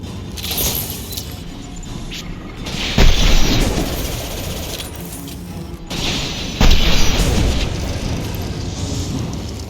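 Weapon fire and heavy explosions in the video game Mass Effect 2, with two loud booming blasts that swell and roll over a constant rumbling, noisy battle backdrop.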